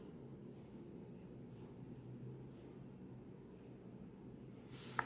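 Faint, soft scratching of writing on paper during a classroom lesson, quiet and continuous, with no voices over it.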